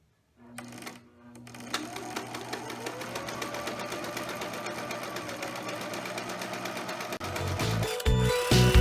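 Sewing machine stitching a Minnie Mouse pillowcase dress, a steady rapid mechanical chatter running continuously for several seconds after a brief start, close and clear, ending with a few louder clunks.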